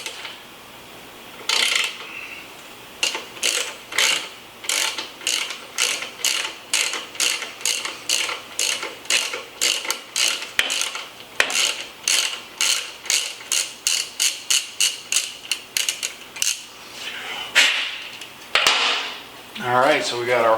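A 3/8-16 tap in a hand tap handle cuts threads into a drilled bolt hole, lubricated with WD-40, while working on a Honda Shadow bobber. Loud, close, rhythmic metallic clicks and crunches repeat steadily in short bursts.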